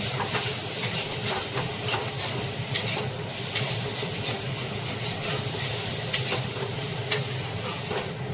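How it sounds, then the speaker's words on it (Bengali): Hot water hits a pan of fried spices for a fish curry with a continuous loud hissing and steaming bubbling, close, broken by occasional faint clicks of a utensil. "এবার দিয়ে দিলাম গরম জলটা"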